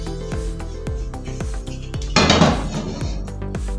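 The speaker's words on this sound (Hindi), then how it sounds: "अब एक चूल्हे पे मैं रखने लगी हूँ पानी" Metal pot being filled with water and set onto a stovetop, a series of sharp clanks and knocks at a steady pace, then a burst of rushing water near the middle, close and fairly loud, with no talking.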